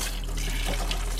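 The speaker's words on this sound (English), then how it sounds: "got our water working." Water pours steadily from a faucet inside a camper van, a brief, even rush of splashing flow.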